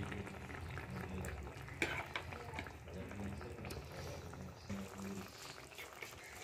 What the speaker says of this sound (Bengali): এই দেখুন একটু সময় ফুটবে ফুলকপির সাথে